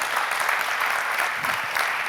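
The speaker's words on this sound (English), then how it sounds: "you can give some applause to Giuseppe" A conference audience at a Nokia hacking and security talk claps for speaker Giuseppe Targia. It comes as a short, even burst of moderately loud clapping from the room, with no talk over it.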